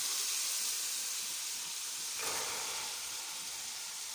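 Green peas are tipped into a hot pan of mashed tomatoes for matar pulao, making a steady sizzling hiss that swells sharply partway through, then settles back.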